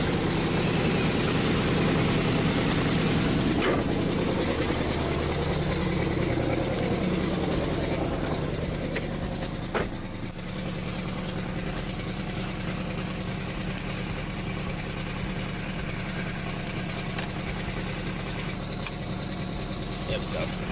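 A car engine running steadily while being driven around the block to warm up, a constant mid-low hum at moderate level with faint voice in the background.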